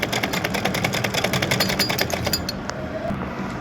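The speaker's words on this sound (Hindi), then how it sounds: "जहाँ सुई चल रही है इसी सुई के रास्ते पे चलाते हुए ये ऊपर की फाइनल सिलाई को कंप्लीट करना है" A sewing machine stitches the final seam of a collar with a fast, rhythmic close-up needle clatter that runs steadily for a few seconds, then stops and leaves faint handling sounds.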